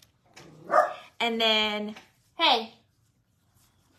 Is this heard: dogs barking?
yes